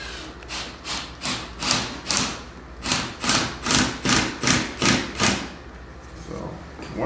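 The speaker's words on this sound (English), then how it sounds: "I'll use them as a guide and I'll just screw through" Driving screws through wood along existing clamp-pinch holes: about a dozen regular, rasping bursts in a steady rhythm, close and fairly loud, with low background hum.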